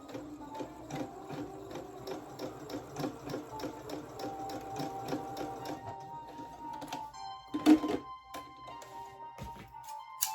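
A sewing machine stitches a trouser hem with a regular presser foot in rapid mechanical bursts, pausing briefly between runs, with a sharp thunk near the end; close and fairly loud, no talk.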